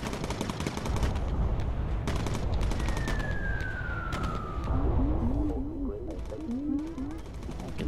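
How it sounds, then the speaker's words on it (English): Machine-gun fire from a bomber aircraft in the video game Bomber Crew, a dense continuous rattle of rapid shots over steady engine drone, with a falling whistle and warbling alarm-like tones joining midway. "Stop shooting!"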